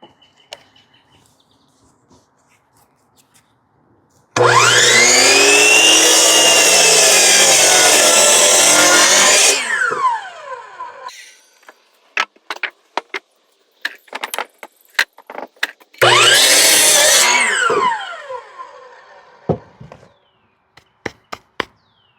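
A power saw cuts a wood board to length for diagonal bracing on a firewood shed, two loud sustained whining cuts of about five seconds and two seconds, separated and followed by sharp clatters and knocks.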